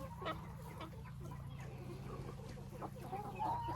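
Young roosters being fed grass cluck and murmur in a low steady flock hum close by, with occasional sharper calls rising above it.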